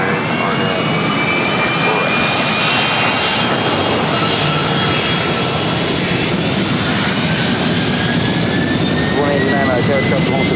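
Jet airliner engines roar up close at LAX airport, a loud, unbroken blast of noise with whining tones that slowly rise and fall across the whole stretch.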